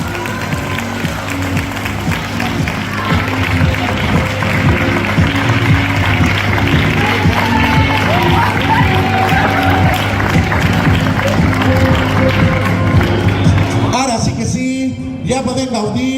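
A crowd at a carnival party for elderly people in Vinaròs gives sustained, loud applause and cheering, mixed with a background of music and voices. The applause dies down near the end.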